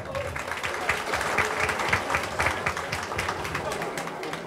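Diners at a fundraising dinner marking a Taiwanese society's eleventh anniversary break into applause. It is a sustained, moderately loud round of crowd clapping, mixed with voices and cheering from the room.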